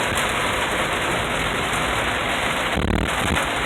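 Constant heavy rain pours during an extreme flood in Port Neches, Texas, a loud, dense, unbroken hiss close by with no talking.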